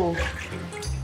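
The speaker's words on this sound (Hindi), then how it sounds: "दो प्याले पानी डाला है।" Water is poured into a pot of rice set to boil, a short close splashing pour with a bubbling gurgle as it fills.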